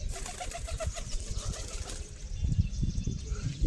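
Pigeon wings flap in quick, close bursts around a Punjabi pigeon in a loft, with soft cooing in the background and steady fluttering that grows a little louder toward the end.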